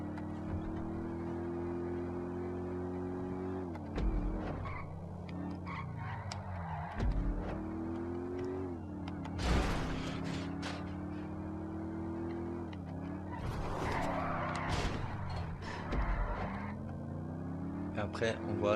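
A fast race car in Grand Theft Auto 5 revs quietly, its engine pitch climbing and dropping again with each gear shift, over and over, with a voice speaking alongside.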